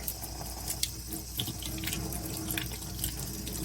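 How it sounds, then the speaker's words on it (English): Tap water runs steadily over a plastic oral appliance being rinsed at a sink, a continuous close splashing hiss with small shifts as it is turned under the stream. "You're going to want to rinse this thoroughly, ensuring that we get all of the saliva and the soap off."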